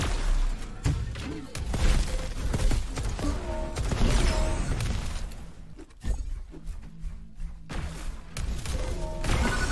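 Gunfire and weapon impacts from a Diabotical arena duel in a closed-beta grand final, with dense overlapping shots, thuds and crashes running continuously at close range, briefly dipping near the middle before resuming.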